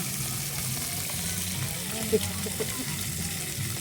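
Five or six fish pieces frying in darkened oil, a steady broadband hiss and sizzle with a couple of small pops, while people talk over it.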